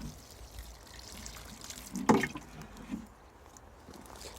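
Liquid feed poured onto allotment plants in summer, about a litre per plant, a brief splashing gush in the middle that trickles and drips into the soil against quiet outdoor background.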